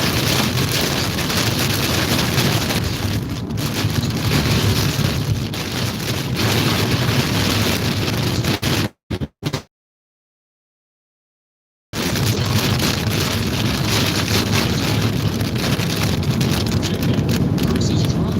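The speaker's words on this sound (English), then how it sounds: "See how windy it is out there right now." Strong wind roars past a vehicle on an interstate during a tornado near Louisville, a loud continuous buffeting rush that cuts out briefly midway, then returns just as heavy.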